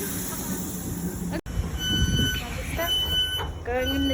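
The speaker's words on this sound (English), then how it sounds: "Yep, that's a train. That's our train." Electric train on the Lancing to Brighton line, a Class 313 unit, rumbles steadily nearby, with wheel squeal and a brief cutout, while people talk over it.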